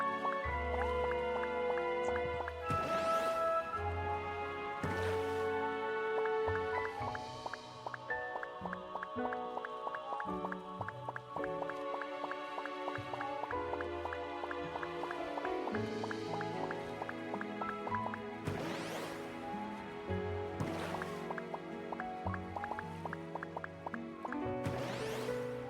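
Gentle flowing water from the river ride in the video game Adopt Me, with soft dripping and liquid plinks, set under a steady bed of calm music that runs throughout.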